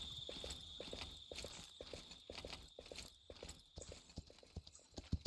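Several horses in Kingdom Two Crowns clip-clop steadily with a rhythmic stream of hoof beats. A quiet ambient hum runs underneath.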